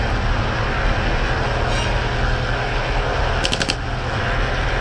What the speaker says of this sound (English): What kind of plane is making that noise?